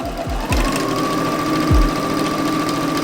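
A sewing machine runs up a summer dress side seam, giving a loud, close, continuous motor drone with a few low thumps at the start.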